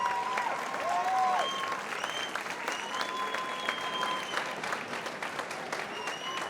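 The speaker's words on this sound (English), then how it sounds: "A round of applause for these fighters." Crowd applause for fighters at a Muay Thai event, sustained clapping from the arena audience with faint tones and chatter mixed in, easing slightly toward the end.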